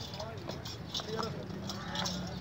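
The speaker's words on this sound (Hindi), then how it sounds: "इस तरह के जो घोड़े हैं वो हिकमत भाई के पास बहुत ज़्यादा घोड़े हैं यहाँ पर" Horse hooves give a light, uneven clip-clop at a moderate distance, partly masked by someone talking over them throughout.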